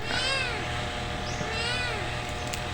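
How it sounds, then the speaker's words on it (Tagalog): A pet cat stuck high in a jackfruit tree cries out in repeated plaintive meows, two drawn-out wails rising and falling against a steady outdoor background hum. "Sabi ko parang may umiiyak na pusa."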